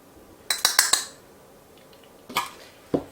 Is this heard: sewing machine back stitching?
no